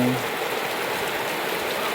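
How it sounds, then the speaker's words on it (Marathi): Steady, dense monsoon rainfall over farmland hisses evenly throughout, a continuous wash of drops with no pauses. "कालपासून पाऊस सुरू झालेला आहे"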